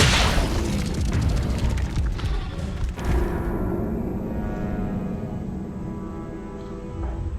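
Casting the Incendio fire spell in a Harry Potter video game sets off a loud, rumbling whoosh of flame, dense and sustained, fading into a lingering roar.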